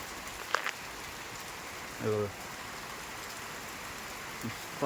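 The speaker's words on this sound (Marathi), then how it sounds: "आज ना मरणाचा पाऊस लागतोय बघा" Heavy rain pours steadily on surfaces around a village home, a soft, even hiss throughout with a brief voice and a couple of small knocks.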